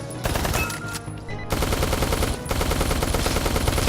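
Sustained automatic gunfire in the video game Neon Chrome fills the whole stretch as a dense, loud rattle of rapid shots, broken by a couple of brief pauses before the firing resumes.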